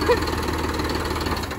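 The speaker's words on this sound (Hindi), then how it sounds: "चला रही ट्रैक्टर यार।" A tractor engine runs steadily at close range, a continuous low mechanical rumble with a faint knocking pulse throughout.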